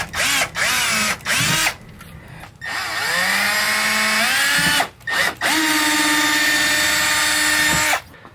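A power drill bores a hole for a Dodge Durango side marker in a series of whining bursts that rise and fall in pitch, with short pauses between runs.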